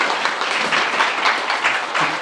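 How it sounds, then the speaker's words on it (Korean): Crowd at a community book concert applauding together, a steady wash of many hands clapping at moderate loudness with slight swells, heard on its own without talk. "예, 박수 한번."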